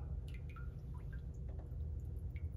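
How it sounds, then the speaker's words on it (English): Faint, sparse drips and light splashes of water being touched, a few soft droplets over a low steady hum in a quiet church worship service. "You can pour it into something else if you like, or touch the water, feel the water, hear"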